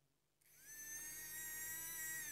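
Small electric motor powered by a homemade laptop-battery power bank whirs up after a short silence, then holds a steady, high-pitched whine close by, fairly faint, with no talking.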